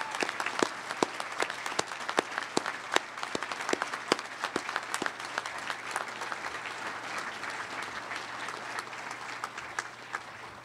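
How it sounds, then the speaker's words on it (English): An audience at a national high school oratorical contest gives a sustained round of applause, dense distinct claps continuing steadily for about ten seconds at moderate distance, alone without speech. "Please join me in another round of applause."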